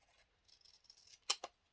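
Scissors cutting through paper for a scrapbook album, a quiet rustle of slicing followed by two crisp, distinct snips near the end, close and faint with no talking.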